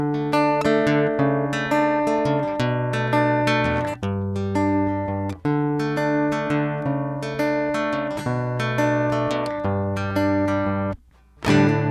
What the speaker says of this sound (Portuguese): Vamos conferir o som dele equalizado.